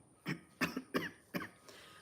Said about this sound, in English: apparently I have a cough